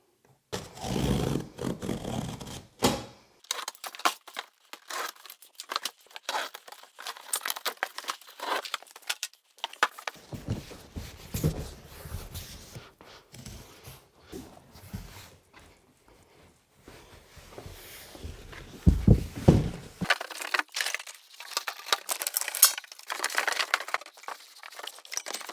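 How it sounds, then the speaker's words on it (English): A blade slices through a large sheet of cardboard in a workshop, with bursts of crinkling, scraping and tearing separated by quiet pauses, close and moderately faint. "So let's get this cardboard cut."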